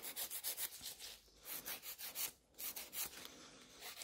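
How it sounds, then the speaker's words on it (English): Nail file rasping across a gel nail tip, shaping a V and almond free edge on short bitten nails: rapid, close back-and-forth rubbing strokes in steady bursts with a couple of brief pauses. "I'm just filing to get rid of that. And then filing a V-shape"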